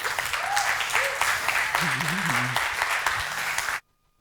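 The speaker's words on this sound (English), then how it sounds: "please welcome with a warm applause, Tricia Broderick." Warm applause from a conference audience welcoming a speaker to the stage at a software developer conference, steady hand-clapping with a few vocal cheers mixed in, ending abruptly.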